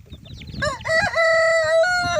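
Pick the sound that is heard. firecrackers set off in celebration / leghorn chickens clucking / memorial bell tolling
leghorn chickens clucking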